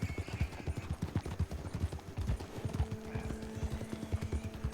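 Rhythmic hoof clip-clops of a horse in a video game, steady and fairly close, with a brief whinny partway through.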